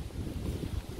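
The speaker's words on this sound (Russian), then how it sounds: "очень сильный просто ветер" Strong wind blasts against the microphone, a loud, continuous low buffeting rumble.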